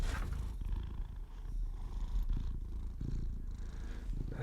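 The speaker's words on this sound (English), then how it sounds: "He's purring. Remy, purring to the mic." Remy the cat purring close into a microphone, a steady low rumbling purr that continues throughout with small variations in intensity.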